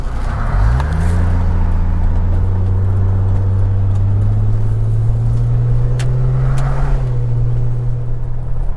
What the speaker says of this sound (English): It does have a nice rumble to the exhaust